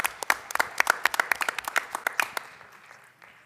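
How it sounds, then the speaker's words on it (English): Applause at a school board meeting honouring a student wrestler, a small audience clapping with distinct individual claps that thin out and fade toward the end. "Please join me in a round of applause"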